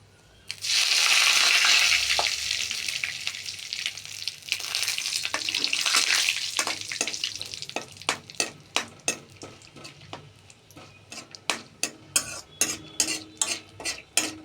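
Dry red chillies and bay leaves frying in hot oil in a pan: a loud, steady sizzle fills the opening seconds, then settles as a spoon or spatula clinks and scrapes against the pan in a regular series of sharp taps.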